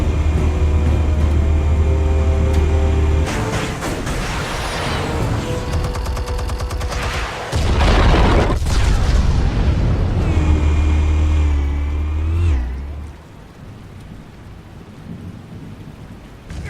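Explosives detonating in Batman: The Telltale Series, a heavy rumbling blast with a sustained roaring low boom and debris-like crackle, loud and close, fading out near the end.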